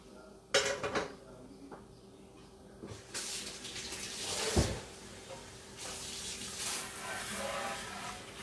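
Hands rinse under a running kitchen tap during summer lunch cooking, water splashing in uneven bursts alongside clinks of dishes and a cupboard knock, fairly close and moderately quiet.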